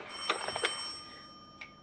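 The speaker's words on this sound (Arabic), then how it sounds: "ده ترنك يا علا" An old landline telephone rings for a long-distance trunk call, heard as a couple of short, faint bell bursts in a quiet room, with a final brief ring after a pause.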